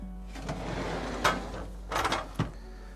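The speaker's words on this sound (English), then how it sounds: "It does have a pocket door, so you have privacy." A pocket door slides inside an RV coach, a 2022 Tiffin Allegro Red 37 BA, giving a soft rolling rumble followed by a few close knocks and thumps as it moves and settles.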